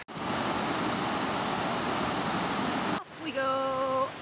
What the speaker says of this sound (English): But check out this waterfall.